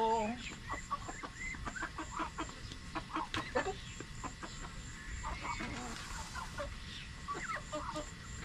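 Backyard fowl call around a garden in an irregular, scattered series of clucks and squawks at moderate distance, with a person's voice mixed in at times.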